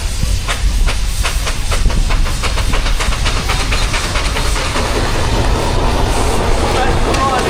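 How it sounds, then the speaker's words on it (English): Steam traction engine at a steam event, blasting steam and water up its chimney with a loud, continuous roaring hiss and faint rhythmic chuffing throughout, while voices talk over it. "That's not smoke out here, but that's steam, that's all water."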